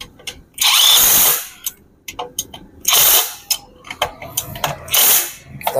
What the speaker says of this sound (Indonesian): Kita kencangkan baut tutup tutupnya satu persatu.